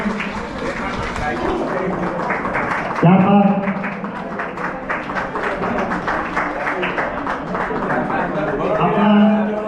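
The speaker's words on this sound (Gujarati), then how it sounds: "તાળીઓના ગણગણાટથી વધાવી દો ભાઈઓ અને બહેનો" Men and women in an audience at a village honouring ceremony applaud in a continuous, crowded patter, with someone talking over the clapping on a loudspeaker throughout.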